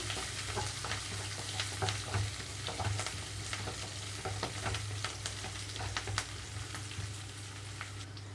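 Green chillies, sliced onions and curry leaves frying for Andhra-style rasam, a close continuous sizzle with frequent crackles and pops and a low hum underneath.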